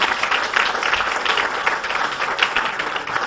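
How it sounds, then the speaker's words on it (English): Round of applause from the audience at a city council regular meeting, dense steady clapping filling the room at moderate loudness for a few seconds. "one more round of applause"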